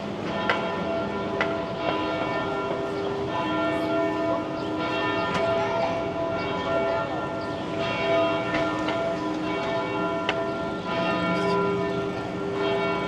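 Church bells in downtown Boston ring at 2 o'clock, a steady, dense peal of overlapping strikes and sustained tones lasting throughout, heard from the street with ambient city noise and no talk.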